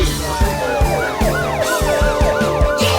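A wailing police car siren sweeps up and down repeatedly over a rhythmic children's song backing, loud and close.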